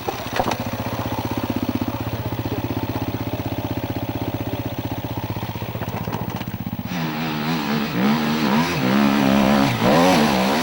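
A KTM 250 EXC-F four-stroke enduro motorcycle runs with a steady, buzzing engine note, then revs up and down in repeated surges while riding over off-road terrain, loud and close.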